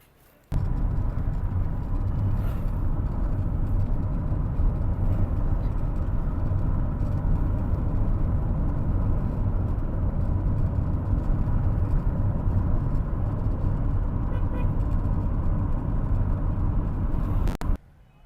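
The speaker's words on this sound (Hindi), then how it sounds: "गाड़ी आ चुकी है।" A car engine drones steadily and fairly close for about seventeen seconds as the car arrives, with a low, even hum that starts and stops abruptly.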